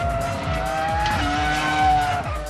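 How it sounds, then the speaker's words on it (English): Formula 1 cars from the 2003 season scream past in a race, with high-pitched engines rising and falling through repeated gear shifts, loud and close, and one car's note dropping as another's climbs. "Ralf ran wide on the way in, and again he's having to cover the line down to Villeneuve"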